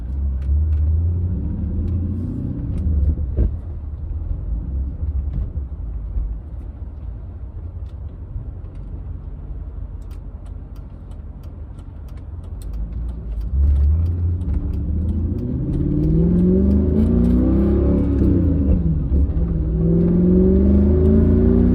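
A manual-swapped Mercedes C55 AMG pulls away from inside the cabin, deep engine rumble building as it revs and climbs through gears, easing off midway then rising again loudly toward the end.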